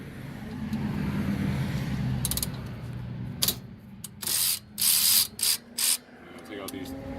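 A ratchet works loose the 12mm rear brake caliper bolts on a 2011 Ford Mustang, giving several short bursts of clicking near the microphone over a low background hum.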